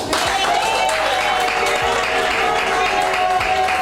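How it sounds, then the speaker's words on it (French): Wedding guests at a civil marriage ceremony break into loud, close, continuous applause for the newly married couple, with some voices mixed into the clapping. "Applaudissez."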